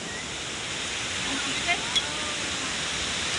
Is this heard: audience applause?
no